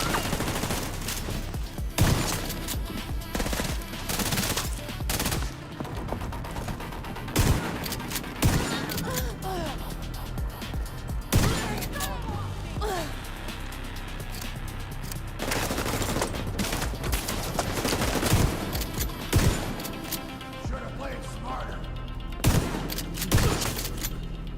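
Gunfire in a first-person shooter played in realism mode: dense, loud volleys of shots and booming reports keep breaking out across the whole stretch, some in rapid bursts, others spaced apart, with faint talk now and then.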